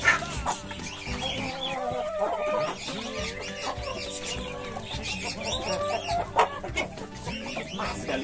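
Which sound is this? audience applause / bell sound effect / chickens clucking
chickens clucking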